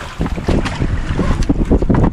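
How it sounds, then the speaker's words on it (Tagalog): Fishing boat at sea heading into strong wind and oncoming waves, loud gusty buffeting across the microphone mixed with irregular thumps and splashes of water against the hull, no voices. "kahit malakas ang hangin at alon"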